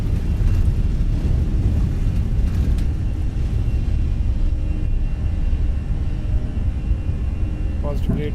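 Airbus A320 in the Fenix flight simulator during its takeoff roll and rotation, a loud continuous low engine roar and rumble filling the whole stretch, with a voice speaking over it.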